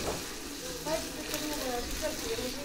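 Mutton frying with ginger-garlic paste and onion over a village wood-fire stove, a steady broadband sizzle with occasional stirring scrapes and faint background voices.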